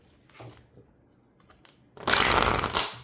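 Tarot cards being shuffled by hand: a few soft, scattered handling taps, then one loud, dense riffling burst of cards lasting about a second, close to the ear.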